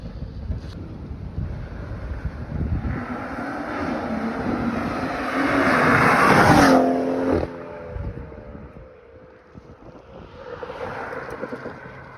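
A 2017 BMW M240i with a catless downpipe revs loudly and then drops pitch through a downshift, the exhaust note stepping down before easing off, with wind buffeting the microphone throughout.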